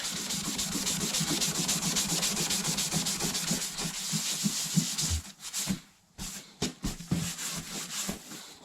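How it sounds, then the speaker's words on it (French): Melamine magic sponges scrub a surface in fast, rhythmic rubbing strokes for several seconds, close and fairly loud. The scrubbing then breaks into a few short, separate swipes with gaps between them. "avec les éponges magiques, hop, on arrive là, on frotte un petit peu, et ça part"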